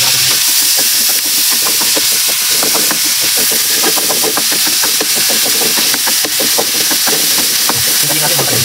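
Garlic dropped into hot cooking oil in a pan for sweet and sour chicken, giving a steady loud sizzle and hiss with crackling bursts throughout.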